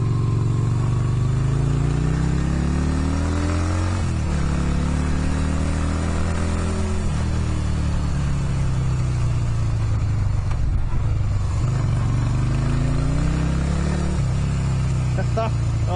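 A Yamaha Virago 250 motorcycle rides along a quiet road, its loud, close engine note climbing and dropping through repeated gear changes under constant wind rush.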